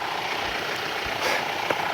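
A tractor engine idles steadily beside a pond, a continuous low rumble that stays fairly constant in level throughout, with a slight swell partway through.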